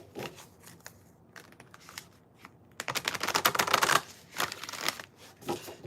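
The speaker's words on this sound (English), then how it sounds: "I'm gonna start with the shuffles real quick" Tarot cards are shuffled by hand in a few quick riffling bursts of papery crackle, close up with short pauses between them, and the longest and loudest run comes in the middle.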